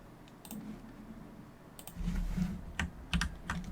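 Computer keyboard keys click in a quick, irregular pattern as a password is typed, close and moderately loud, with a louder burst of typing in the second half.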